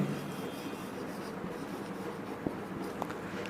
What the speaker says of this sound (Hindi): तो हम थोड़ी सी स्टेटमेंट लिखेंगे कि सॉल्यूशन डाल के